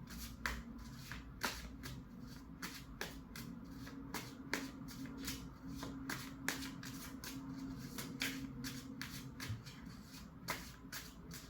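Tarot cards shuffled by hand, giving a long, even series of soft papery riffles and taps, close but quiet, with no talking over them.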